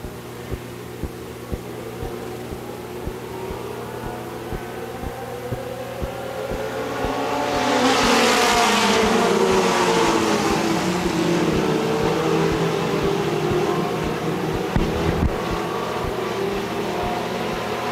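Race cars at night on Smoky Mountain Speedway, a distant engine drone building to a loud passing roar around the track, then fading into a steady hum with crowd ambience.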